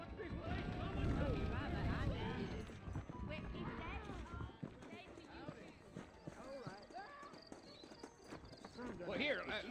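Horse hooves clip-clop at a steady walking rhythm in the Red Dead Redemption western game, mixed under continuous character dialogue and background music, fairly loud and close throughout.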